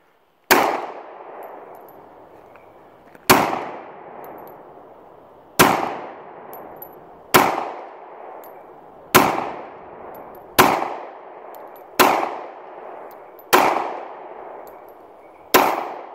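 An SD40VE pistol fitted with a new trigger kit fires about nine sharp, loud shots at uneven intervals, each one ringing out and echoing away before the next.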